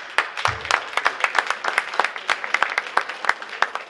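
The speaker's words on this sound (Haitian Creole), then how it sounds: "Nous avons Crâne en arrière que je vous demande d'applaudir s'il vous plaît" A television studio audience applauds with dense, continuous clapping, many hands overlapping into an even, lively patter that keeps going for the whole stretch, with no voices standing out.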